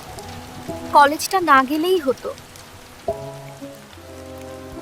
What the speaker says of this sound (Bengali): আজ আবার বৃষ্টি